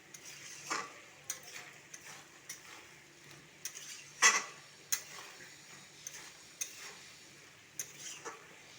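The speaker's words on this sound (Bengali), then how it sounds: "আমি একটু ভালোভাবে নাড়িয়ে নেব।" A spoon stirs pumpkin, potato and sugar in a pan, giving a soft sizzle broken by irregular scraping clacks against the metal, quiet and close with no talking.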